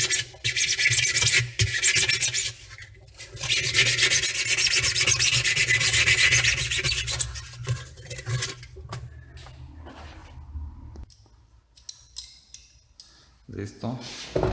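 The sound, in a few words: sanding a stuck washing machine transmission seal with sandpaper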